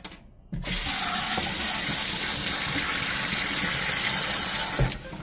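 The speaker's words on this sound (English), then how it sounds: "take this and cool it down in some water" Water gushes steadily from a tap over a hot pot after a brief quiet start, a loud continuous splashing flow that cuts off near the end.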